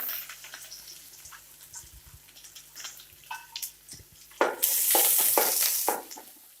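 Onion sautéing in hot oil with a tempering of mustard seeds, urad dal and curry leaves, made for savoury kozhukattai: soft scattered stirring scrapes build into a loud, dense sizzle that holds steady for a couple of seconds before easing off.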